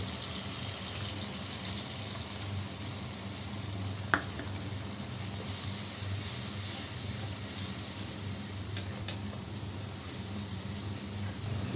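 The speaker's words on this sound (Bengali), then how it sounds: "বেগুনগুলো ছেড়ে দিলাম" Eggplant fries in a pan with turmeric, chili and mustard powder, giving a loud steady sizzle throughout with a few brief sharp clicks near the end.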